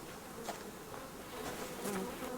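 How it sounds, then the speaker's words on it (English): Bees buzz in the video game Subsistence, a steady insect drone that swells and fades as they hover close by, with no talking. "Oh, there's bees."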